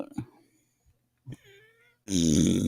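A loud, low, raspy burp bursts out near the end and holds for over half a second, close to the microphone during a live internet radio show, after a few brief faint noises and quiet room sound.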